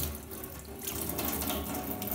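Water runs steadily from a tap into a sink, a continuous close rushing flow with no voices, cool tap water splashing throughout.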